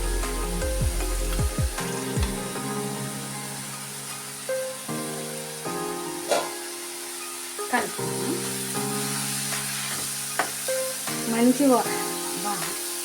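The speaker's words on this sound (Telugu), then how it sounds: "మెంతి కూర ఇలా ఉడుకుతుంటే మంచి వాసన వస్తుందండి" Methi (fenugreek leaf) and tomato curry with green chillies cooks in a pan, a steady close sizzle with occasional stirring scrapes and clinks, while a person talks over it now and then.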